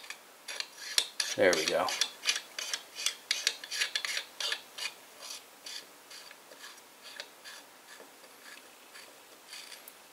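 A camera filter being threaded onto a filter wheel gives a quick run of small, close metallic rasping and ticking scrapes at a steady rhythm, with a brief mutter partway through.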